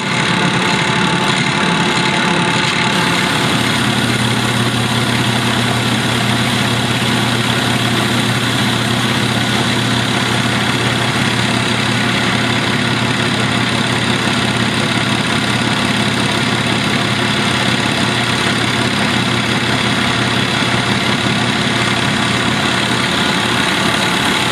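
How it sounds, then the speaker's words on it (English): A sander shapes a wooden turkey box call, giving off a loud, steady motor drone that runs unbroken the whole time, with no talking. "I freehand a lot of my stuff on the sander."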